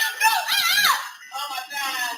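Two women scream during a shooting at a house, high strained cries filling the moment between bursts of gunfire, loud and close, with a second wavering scream following a brief dip.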